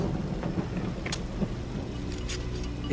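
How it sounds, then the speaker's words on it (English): Steady rain pours down across the Amazon rainforest beside a riverside sandbar, a dense continuous hiss with occasional brighter spatters and a low rumble underneath, no voices. "It doesn't look like this rain is going to let up."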